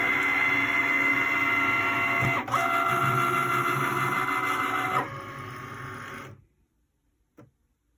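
A Cricut machine cuts vinyl with a steady mechanical whir and buzzing carriage movement, a brief pause, then a quieter stretch before stopping into near silence.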